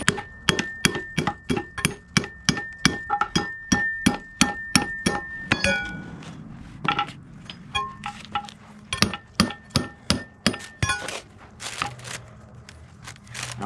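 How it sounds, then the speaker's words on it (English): Hammer knocking a bushing out of a control arm on a 1997 Dodge 3500 truck, a steady series of sharp metallic strikes, close and ringing, with a brief pause midway. "I have to knock this bushing out."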